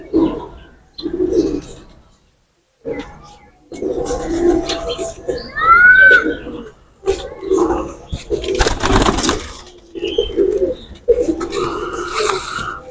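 Pigeons coo in soft, repeated low bursts near a rooftop loft of champion racing pigeons, while people talk throughout and a few brief higher bird calls break in.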